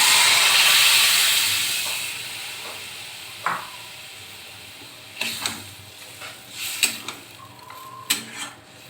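Boiled mung dal with a fish head being stirred in a pan: a steady sizzling hiss at first that fades, then scattered scraping clinks of the spoon against the pan.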